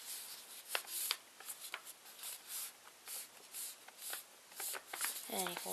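Sheet of paper being folded back and forth into a pleated fan, giving repeated soft crisp creasing and rustling strokes at close range, with a brief crinkle near the end.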